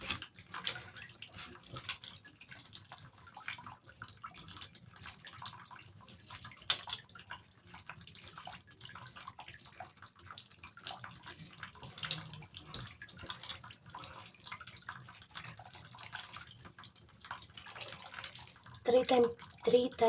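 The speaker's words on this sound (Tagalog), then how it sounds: "Three times po natin siyang huhugasan ng tubig." Grated papaya for achara is rinsed in water, making soft, continuous sloshing and dripping with a few louder splashes near the end. Quiet talk runs underneath.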